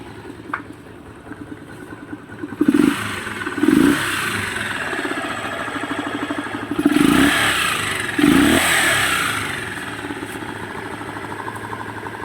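A TMX motorcycle engine idles with a steady putter, then revs up in several sharp bursts before settling back to a low idle.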